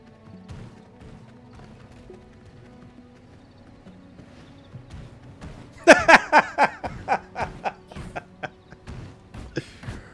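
Horse hooves clip-clopping in the video game V Rising, a quick burst of loud, evenly spaced hoofbeats that gradually fade after a quiet stretch.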